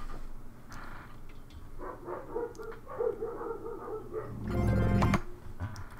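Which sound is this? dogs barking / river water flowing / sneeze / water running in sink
dogs barking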